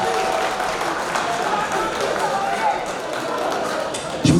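An audience at an end-of-year gathering applauds the president, a steady wash of clapping heard partly under talk, ending in a brief louder knock.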